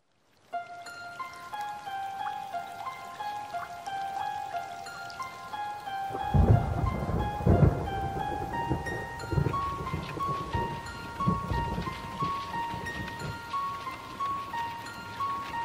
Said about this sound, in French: En été, à Guédelon, il peut aussi pleuvoir.